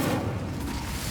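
A brief burst of roaring fire from a cast Incendio spell in Hogwarts Legacy, a dense whooshing rumble that fills the whole moment without pause.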